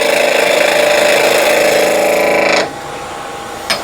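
A freshly sharpened skew chisel takes a light cut on a spinning twig pot on a wood lathe, a close, steady whirring scrape that stops abruptly and leaves a faint motor hum and one brief tap.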